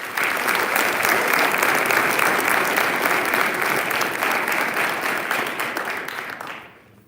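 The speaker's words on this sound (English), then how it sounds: "I'd like to give him a round of applause." Sustained applause from an audience at a fall sports award ceremony, steady and full for about six seconds before tapering off at the end, with no talking over it.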